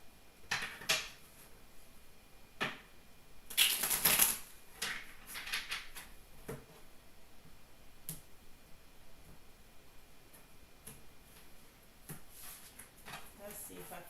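Tarot cards being shuffled make scattered soft clicks and taps, with one denser riffling burst early on, all close and fairly quiet.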